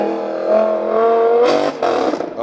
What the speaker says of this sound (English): There goes the R8.